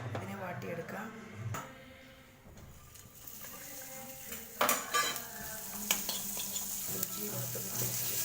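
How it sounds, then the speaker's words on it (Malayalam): Green chili, curry leaves and ginger-garlic paste sauté in a pan for beetroot pickle, with a soft sizzle under clinks and scrapes of a stirring spoon. "പച്ചമുളക്, കറിവേപ്പില, ഇഞ്ചി വെളുത്തുള്ളി പേസ്റ്റ് ഇതിനെ വാട്ടിയെടുക്കാം."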